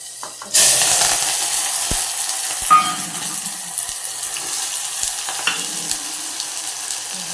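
Garlic tipped into hot oil already holding cumin, fenugreek seeds and curry leaves for a Gujarati cluster bean and potato dish, giving a sudden loud, steady sizzle with occasional stirring clinks, no talking.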